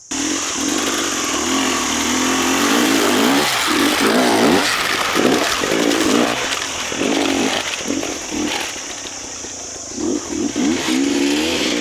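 Dirt bike on a Hanoi dirt track, engine revved in repeated on-off throttle bursts that rise and fall in a steady rhythm, loud and close throughout.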